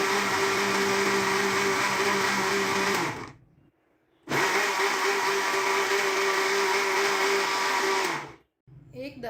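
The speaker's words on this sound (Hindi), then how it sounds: "अब एक दफ़ा हम यहाँ पे इसे ग्राइंड करेंगे।" A kitchen blender grinds mango, banana and milk for a smoothie. Two loud, steady whirring runs of about three and four seconds are split by a short pause, and the motor winds down after each run.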